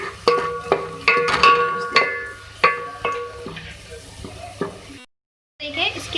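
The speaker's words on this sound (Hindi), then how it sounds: "तो अब मैं इसमें ऐड करूँगी 2 स्टिक जो है दालचीनी के और 1 बड़ी इलायची। भी फ्राई कर लें हल्का सा।" Cinnamon sticks and black cardamom frying with golden onions in hot oil, a close sizzle with repeated sharp stirring clacks of a spoon against the pan, then a brief gap before the sizzle resumes.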